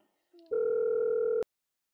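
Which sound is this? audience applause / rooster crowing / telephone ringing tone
telephone ringing tone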